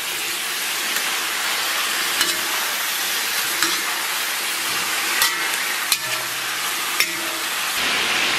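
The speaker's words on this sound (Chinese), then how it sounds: "咱们把五花肉给它下里边，然后给它简单煸炒上色" Pork belly stir-fries in a wok with scallion, ginger and garlic, giving a loud, continuous sizzle, broken by occasional sharp clinks of a spatula against the pan.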